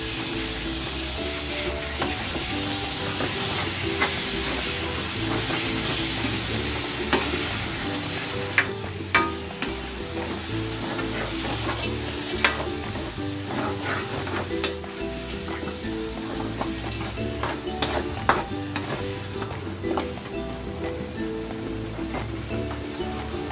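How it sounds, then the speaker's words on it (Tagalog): Bagoong alamang (shrimp paste) sautéing in a pan, with a steady close sizzle throughout and occasional scraping and clicking as it is stirred. "Gigisa natin ito hanggang sa maluto ng maayos yung ating bagoong alamang"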